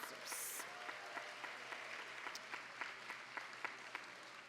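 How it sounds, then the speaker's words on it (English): Applause from the audience at an awards gala honoring sponsors, a steady patter of many hands clapping at moderate distance, continuing unbroken for several seconds. "Let's give a round of applause to all of our sponsors."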